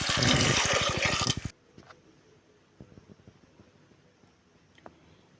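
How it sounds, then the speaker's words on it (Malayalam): Water poured into a pressure cooker over green curry pieces, a loud gushing splash for about a second and a half, then quiet with a few small clicks and knocks. "നികക്ക് വെള്ളം ഒഴിച്ച് നമുക്ക് കുക്കർ അടച്ച് അടുപ്പത്ത് വയ്ക്കാം"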